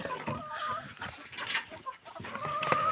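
A broody turkey hen kept in a farmyard gives a run of irregular, close clucks and throaty calls, with other poultry noise mixed in and no talk over it.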